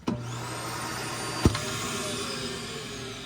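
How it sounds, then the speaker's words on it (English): A central vacuum system in a 2022 Cedar Creek 375BHO fifth-wheel RV runs as a steady, close, whooshing drone with one brief thump partway through. "Right down here is going to be your central vac."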